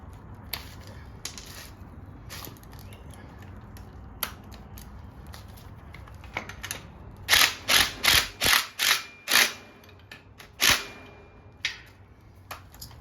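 A wrench tightens bolts on a Harbor Freight trailer jack while channel locks hold the other side, producing a series of sharp metallic clicks and ratcheting snaps, with a quick cluster in the middle.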